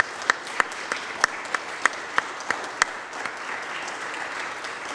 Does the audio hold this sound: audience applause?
yes